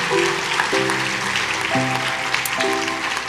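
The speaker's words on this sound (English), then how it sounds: "So let's give them a round of applause, please." A crowd applauds volunteer dance instructors at a Burns Night 2022 gathering, a dense, steady wash of clapping that carries on under sustained, stepping musical tones.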